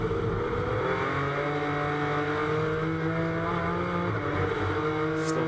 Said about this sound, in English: as the cars come down towards Quercia then